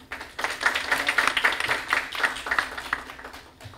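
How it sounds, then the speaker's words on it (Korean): Audience clapping to welcome a panelist at a Korean defense forum on creating a strategic command, a moderate burst of many hands that builds and then gradually thins out. "박수로 맞아주십시오."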